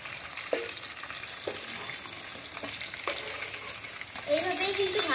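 Hilsa fish frying in a pan of hot oil, a steady close sizzle with occasional stirring clatters and scrapes, no talking.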